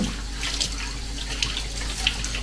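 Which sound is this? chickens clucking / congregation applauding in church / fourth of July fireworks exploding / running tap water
running tap water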